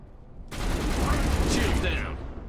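Turret fire in Mass Effect: a sustained, dense roar of rapid automatic shots that starts abruptly and keeps going for about two seconds before easing slightly.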